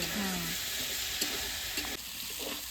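Kohlrabi and potato pieces fry in a pan for a fish curry, giving a loud, continuous close sizzle with occasional spatula scrapes and stirring knocks, no voices.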